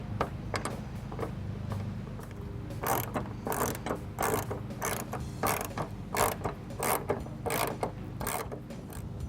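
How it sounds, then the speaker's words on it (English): A ratchet tightens the factory nut on a Redline hood strut bracket of a 2015 Ford Mustang, giving repeated close, crisp clicking strokes in a steady rhythm over several seconds, with faint background hum and no talking. "Now you just have to install the Redline hood bracket and replace the factory nut."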